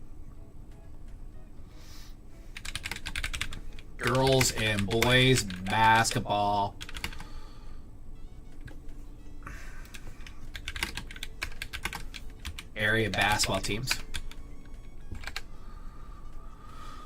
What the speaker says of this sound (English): what you're hearing is like the little keystrokes